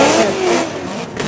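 Drift car engine in an Emirates Drift Championship Top 16 battle revving hard as the throttle is hit, a short, loud, close burst of rising engine roar.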